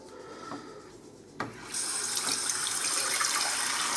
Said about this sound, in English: Just fill up with water.